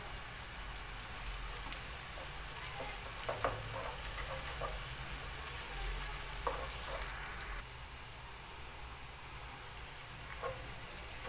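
Garlic and onion fry in a pan with a faint, steady sizzle and a few soft stirring scrapes, quiet and continuous, with the hiss dropping slightly partway through.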